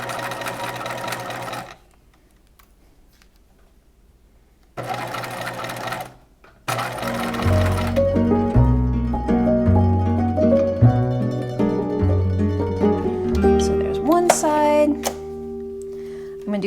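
A sewing machine stitches along the boning channel of a bodice, with short bursts of loud, rapid whirring, pauses between them, then a longer steady run that shifts in pitch near the end.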